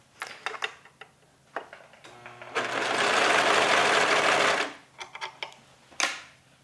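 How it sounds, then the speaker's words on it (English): A serger stitches bedsheet fabric pieces together in a loud, steady mechanical whir of about two seconds, framed by sparse clicks and handling taps before and after; no one talks. "We are ready to serge."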